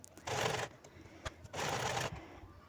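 A sewing machine stitches together cloth scraps for a doormat in two steady whirring bursts, each about half a second long, with a short pause and a small clack between them. The sound is close and quiet, with no talking.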